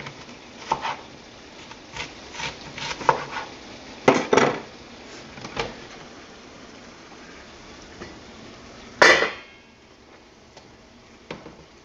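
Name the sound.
knife chopping onions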